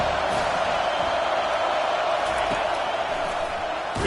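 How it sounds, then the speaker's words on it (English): A football stadium crowd at a Virginia Tech game roars steadily with a dense, continuous wash of cheering that holds loud throughout. "this crowd is turning it up a notch"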